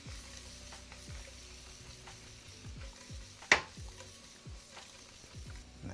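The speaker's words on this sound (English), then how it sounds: "Butter going in, and let that get fully incorporated with the shrimp here." Shrimp frying in butter in a pan: a quiet, steady sizzle with soft stirring scrapes and one sharp clack of a utensil partway through, and no voices.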